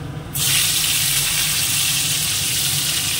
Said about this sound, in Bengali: একটু আগে ভেজে নেব আমগুলো তেলের মধ্যে